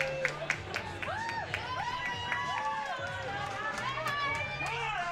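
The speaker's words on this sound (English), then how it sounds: "Cheering from the crowd." Crowd at a university varsity athletics race cheering as runners approach the final 100 metres: a continuous mass of shouts and whoops with rising calls, moderately distant and steady throughout.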